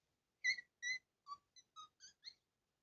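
A short series of seven high, clipped whistle chirps from a video game mod, evenly spaced and clean against silence, faint and close.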